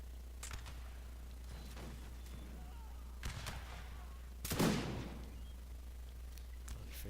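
Musket volleys crack out during a multiplayer battle in the Napoleonic Total War video game, a few scattered distant shots and one louder burst over a constant low hum.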